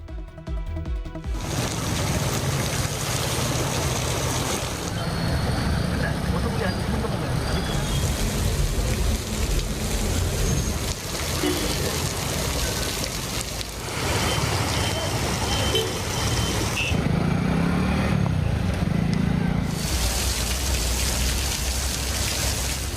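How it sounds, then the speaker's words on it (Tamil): Heavy rain pouring for over an hour: a dense, steady hiss of rain drumming on surfaces, loud and continuous, with faint traffic rumble and a brief tonal beep mixed in. "சுமார் 1 மணி நேரத்திற்கும் மேலாக கனமழை வெளுத்து வாங்கியது"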